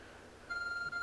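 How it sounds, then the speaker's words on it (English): A glowing beeping object in the video game Pokemon Legends Arceus gives off a thin, steady electronic tone that starts midway, briefly drops out and resumes over quiet game ambience. "There's a glowing beeping object over there."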